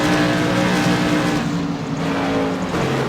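CRA modified race cars roar steadily around the Southern National Motorsports Park oval, a dense, continuous engine drone with several machines blending together at close range and no pause in the noise.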